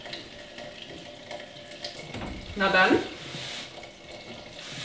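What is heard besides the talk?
water running from faucet into sink in tiny house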